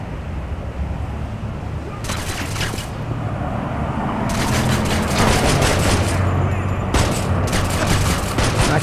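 Gunfire in the Gangstar Vegas video game, repeated loud bursts of shots and automatic fire over a steady background rumble, with brief talk mixed in.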